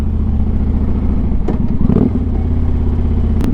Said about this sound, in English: this bike is just so mean, man. It is so mean. It's got that aggressive sound to it